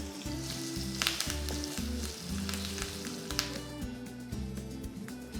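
Urad dal, cumin, mustard seeds, dried red chillies and asafoetida sizzling steadily in hot oil for a tempering for coconut raw mango pickle, with a continuous crackling fry and soft stirring, close and alone.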